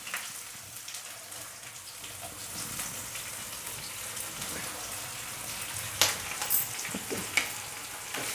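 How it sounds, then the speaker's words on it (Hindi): Onions fry in a pan with cumin and nigella seeds for Bengali-style malai parwal, making a close, continuous sizzle with a few sharper stirring clatters toward the end. "इसमें डाल देंगे हम ये प्याज और अच्छी तरीके से इस प्याज को हमें भूनना है"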